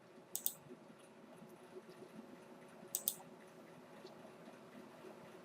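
A computer mouse clicks faintly in a quiet room while tracing a drawing in Silhouette Studio 4 software, with two crisp double clicks standing out about three seconds apart.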